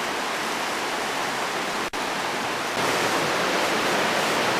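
An underground river rushes along the floor of a cave tunnel, a loud, steady, broadband roar of flowing water filling the space without pause, no voices.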